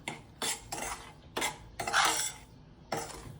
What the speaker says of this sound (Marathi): चांगल्या पद्धतीने छान कलर येऊपर्यंत हलवत राहायचं आहे